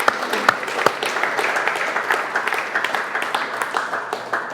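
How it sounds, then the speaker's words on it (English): Team members at an all-hands company update applauding a colleague, a dense, close wash of clapping with a few sharp individual claps standing out early on. "Natalie Crawford, round of applause."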